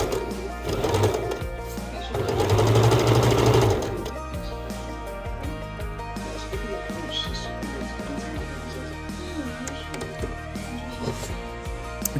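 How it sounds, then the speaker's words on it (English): A sewing machine stitches buttons onto a shirt in two close, rapid mechanical bursts near the start, followed by quieter handling, faint clicks and soft background sounds. "So then I went and stitched the buttons in"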